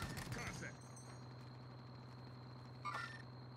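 Gunfire from the video game Mini Royale crackles in brief bursts at the start and again near the end, sitting over a steady low game hum and fairly faint overall.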